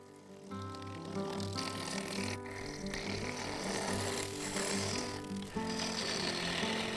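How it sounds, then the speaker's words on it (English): Freshly sharpened bowl gouge on a wood lathe cutting a sapele and epoxy resin blank, a steady scraping whir over the machine's constant tonal hum, moderately loud and continuous. "A freshly sharpened bowl gouge very quickly had the blank cleaned up"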